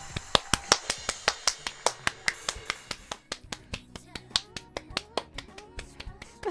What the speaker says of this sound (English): I can't stop clapping